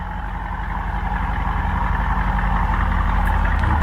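A Mercedes S63 Brabus engine idles with a steady, loud low rumble that swells slightly over a few seconds, heard up close with no talking.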